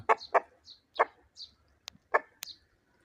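A heavy rooster, about 3.7 kilograms, gives a run of short, sharp clucking calls in an uneven rhythm, close and fairly loud, with no other sound around them.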